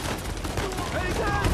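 Rapid bursts of gunfire in Uncharted 4 crackle in quick succession, dense and loud, with a voice partly mixed in underneath.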